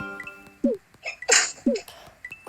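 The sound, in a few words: sneeze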